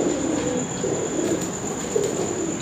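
Sialkoti pigeons kept in a cage give soft, low, repeated coos that rise and fall over a steady background hum, close by and without any talking.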